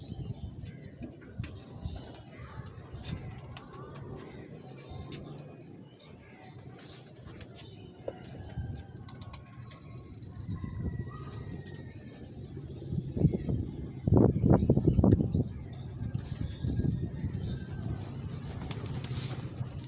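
Pigeons coo, flutter and scuffle close by, with soft repeated cooing calls, bursts of wing flapping and shuffling feet, plus a louder flurry of activity near the middle.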